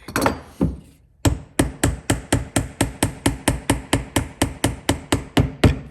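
A hammer drives a metal pin back through a 3D printed tool-case latch: a couple of irregular blows, a brief pause, then a long run of steady, evenly spaced sharp taps, loud and close.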